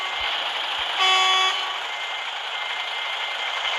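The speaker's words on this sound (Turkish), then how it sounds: "Aracın üstünde ekstradan korna taktırdım." In a truck simulator video game, a single brief blast of the horn on a 2010 MAN TGX 6x4 truck sounds over a steady engine hum, lasting about half a second, with no talk.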